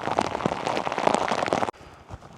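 Rain falls on a riverside footpath in Suffolk, a dense close patter and hiss, likely drops hitting a hood or umbrella, that cuts off abruptly and leaves a quieter background of faint drizzle.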